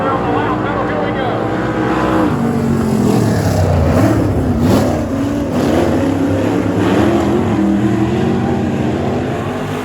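Race cars at a Dothan, Alabama track accelerate hard out of turn four toward the green flag, a loud, dense engine roar with rising and falling revs that fills the whole stretch.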